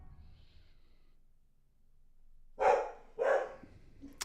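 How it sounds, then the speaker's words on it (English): A dog barks twice in quick succession, loud and close, after a quiet stretch with faint background noise, followed by a short sharp sound at the end. "Doggos be barking."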